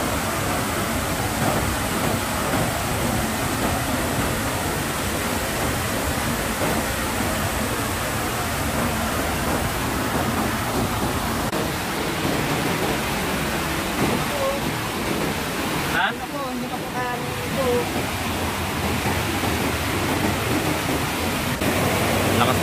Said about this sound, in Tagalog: Lakas na maagos.